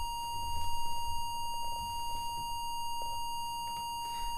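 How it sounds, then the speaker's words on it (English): A steady, fairly high-pitched sine-like tone generated by an Elan Enterprise computer emulator, holding constant and alone with faint background hum and a few soft clicks throughout. "we've got a fairly high pitched tone"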